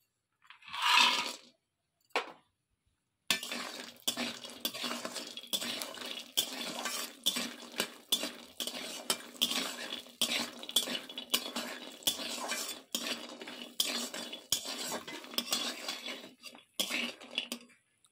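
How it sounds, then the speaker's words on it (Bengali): Lentil dumplings (bori) frying in oil in a wok, with continuous crackling sizzle and repeated metal scrapes and taps of stirring, close and steady for most of the stretch after a brief opening clatter. "বড়িটা আমরা ভেজে নেব।"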